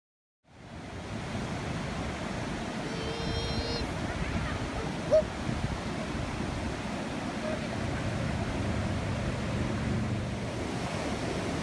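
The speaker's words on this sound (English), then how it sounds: "Now we can see the waterfall falling into the river again." A waterfall drops into a river, heard as a steady broadband rush of water that starts abruptly and holds evenly throughout, with a brief faint voice partway through.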